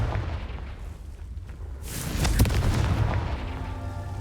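The Confringo blasting spell goes off in Hogwarts Legacy, a dull rumbling backdrop breaking into a sudden loud booming burst with crackling debris that keeps roaring until the end.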